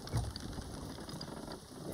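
Steady rain falls in a Sea of Thieves storm, a soft constant patter on surfaces with a brief low thump near the start, quiet and unbroken with no talking.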